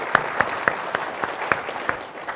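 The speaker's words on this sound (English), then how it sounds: "Give him a hero's applause." A conference audience at a tech event breaks into applause, a brief round of scattered, rhythmic claps that is moderately loud and stays the same without building.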